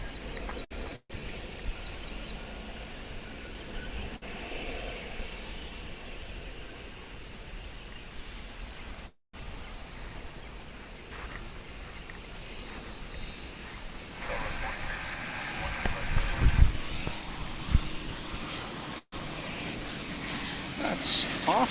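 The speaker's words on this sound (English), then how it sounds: "This here A321 is on its way to Omaha," An Airbus A321 bound for Omaha rolls and climbs out from DFW, a steady moderate jet rumble that grows louder and rougher near the end, with brief dropouts along the way.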